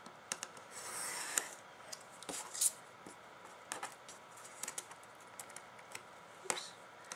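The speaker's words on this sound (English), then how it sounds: "just keep your knife against the ruler" Craft knife drawn along a ruler through paper, producing quiet scraping and rubbing strokes with scattered light ticks and taps, close and faint.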